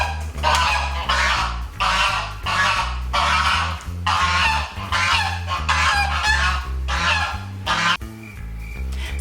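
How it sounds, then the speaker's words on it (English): Several geese honk loudly outside a house in a rapid, repeated series of harsh, nasal calls, close and insistent, one burst after another with no talk. "that's the geese."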